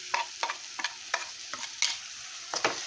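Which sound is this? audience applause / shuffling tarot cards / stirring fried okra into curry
stirring fried okra into curry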